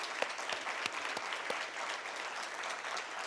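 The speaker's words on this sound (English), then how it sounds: "I want to ask everyone to give them that round of applause" Round of applause from the audience at a community obesity summit, honoring the mayor and county commissioner; steady dense clapping at moderate distance, a few sharper claps standing out, continuing throughout without talk.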